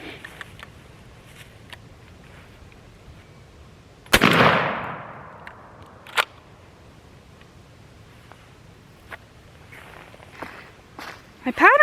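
Shotgun fired at a turkey pattern target from 30 yards outdoors, a single sharp loud blast with a decaying boom, followed by light handling noises and faint movement.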